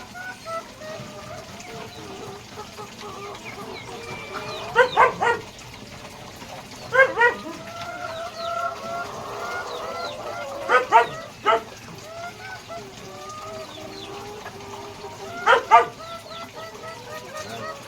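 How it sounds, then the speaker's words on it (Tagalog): A dog barks at chickens in short clustered bursts, a few at a time with pauses between, moderately near over quiet background. "Galit na galit sa manok na aso na yun."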